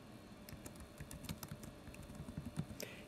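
Soft, rapid keystrokes tap on a keyboard while entering text in Word on an iPad, a faint irregular patter of clicks with no voices.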